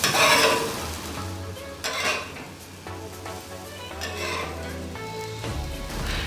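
Little omelette wraps sizzle in leftover oil in a pan over low heat, with a spatula scraping and clattering as they are flipped, close and fairly loud against a steady frying hiss.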